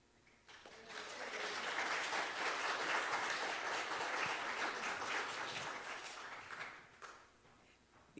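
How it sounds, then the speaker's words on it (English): A church congregation at a Sunday service breaks into applause to welcome a new member, swelling quickly into steady clapping that holds for several seconds, then tapers off. "But we're happy to applaud for Jean."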